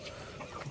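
Indio Gigante chicken raised on a farm gives a few short, soft clucks close by over quiet background noise, lasting under a second.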